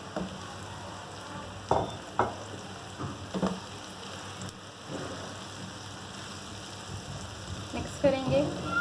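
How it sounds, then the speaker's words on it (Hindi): Minced meat (keema) sizzles softly in a pan with softened onions, a low steady hiss broken by scattered clinks and scrapes of stirring, and faint voice sounds near the end. "अब हम इसमें कीमा डाल देंगे।"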